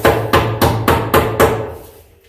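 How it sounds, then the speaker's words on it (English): About six sharp, evenly spaced hammer blows drive U-nails holding electrical wiring in a pole barn, loud and close, the last strike ringing out into quiet. "I'm going to nail those nails in now, but I don't nail them tight because you don't want to crimp your wires."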